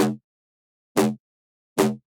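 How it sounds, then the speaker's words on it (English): A synth wobble bass top layer from a bass music track, without added white noise. Three short, harmonically rich bursts are spaced roughly evenly apart with silence between them. "the last sound on this section is the wobble bass"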